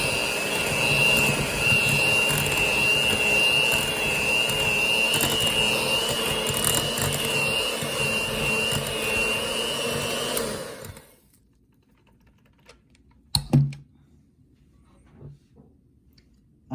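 An electric hand mixer whirs loudly and steadily, beating room-temperature mascarpone cheese with rum, then cuts off abruptly, leaving near silence broken by a couple of brief clicks and knocks.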